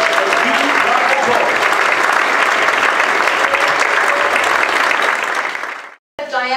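An awards-ceremony audience claps loudly and steadily for about six seconds, then the applause stops abruptly before a brief burst of a voice at the end.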